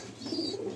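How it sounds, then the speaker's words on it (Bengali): High-flying pigeons coo softly inside a loft in Rajshahi, a low throaty murmur that swells briefly and fades with no voices present. "এটা মাঝে তো যারা এই কবুতরগুলো হাই ফ্লাইং কবুতর"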